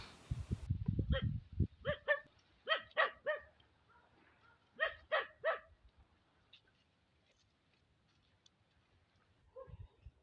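A dog barks repeatedly in short bursts of two or three, fairly close, with quieter gaps and a few softer barks near the end.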